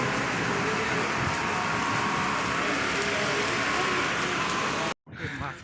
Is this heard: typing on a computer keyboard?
no